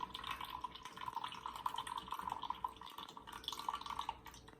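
Soy sauce pours from a bottle into a container while marinade for whiskey-infused beef jerky is mixed, a light, close trickling and dripping liquid sound with no talking.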